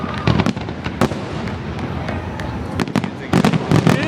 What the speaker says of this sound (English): Back to the fireworks.